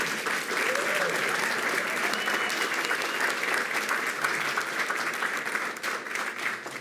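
School board meeting audience applauding top elementary school readers, a dense, even round of clapping from a sizable crowd, sustained and fairly close.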